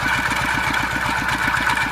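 A small grass cutter engine on a converted ride-on tractor runs steadily at close range, a continuous mechanical drone with a regular rapid pulsing beneath it, no voices.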